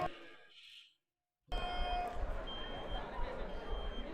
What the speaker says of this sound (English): the beeping on this wheelchair